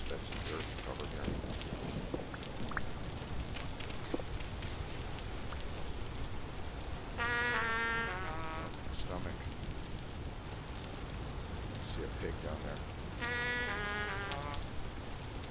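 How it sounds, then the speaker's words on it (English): Steady in-game rain patters continuously in Vintage Story, a soft dense hiss throughout, with occasional animal bleats and someone talking over it. "It's been raining for a while, hasn't it?"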